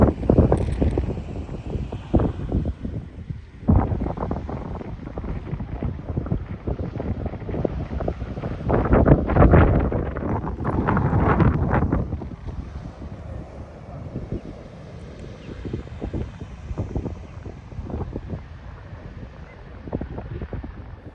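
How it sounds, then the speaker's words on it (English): Strong gusty wind at a coastal scenic viewpoint in Port Orford, Oregon roars and buffets the microphone, rising and falling in bursts, with a loud surge in the middle. "I know it's a little bit windy out"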